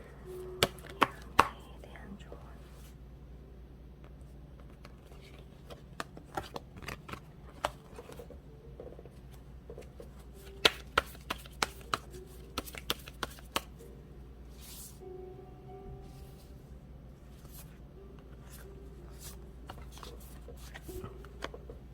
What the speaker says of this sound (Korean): 여러분들의 조언 카드 뽑아보도록 할게요